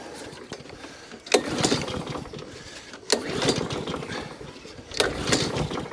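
A lawn mower that won't start is pull-started three times, each sharp rattling yank followed by a brief mechanical whir that fades without the engine catching.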